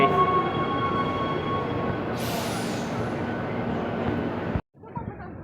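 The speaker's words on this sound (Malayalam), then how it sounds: "ഇത് റൗണ്ടിനേക്ക് പോകുന്ന ട്രെയിനാണ്, മറ്റേ മെട്രോ ആണ്" A metro train runs with a steady roar and rumble, a hissing rise partway through, then the noise cuts off abruptly into quiet.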